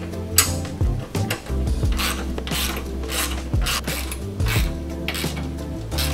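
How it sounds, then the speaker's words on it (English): A ratchet wrench with a 9/16 socket tightening 3/8 pivot bolts on a leading link front suspension: a steady run of quick close clicking strokes with metallic gear chatter and no talk. "we're gonna use a 9/16 wrench and socket"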